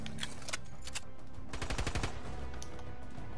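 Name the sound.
gunfire in a video game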